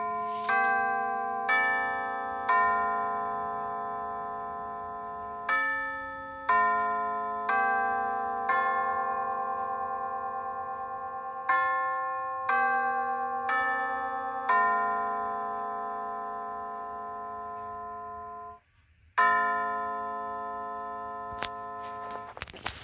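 A quartz clock chimes on the hour after its hands are turned by hand, playing a long sequence of clear ringing bell tones in steady succession, each struck note decaying, with a short gap and a sharp click near the end.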